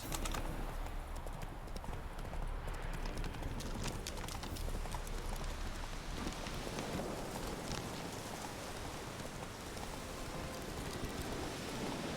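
Horse hooves clip-clop steadily in The Witcher 3 as Roach trots along, with a constant backdrop of rain and occasional distant thunder filling the scene; no talking.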